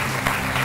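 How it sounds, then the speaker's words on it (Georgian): A studio audience at a comedy contest show applauds a contestant's exit, a brief, dense burst of clapping. "აპლოდისმენტებით გავაცილო დილია"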